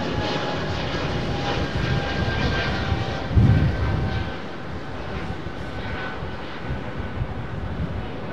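A Rolls-Royce Trent-powered Airbus A330 at Heathrow, its engines a steady, loud broadband roar with a faint whine, holding level for several seconds with a brief swell partway through.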